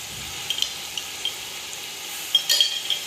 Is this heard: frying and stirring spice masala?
yes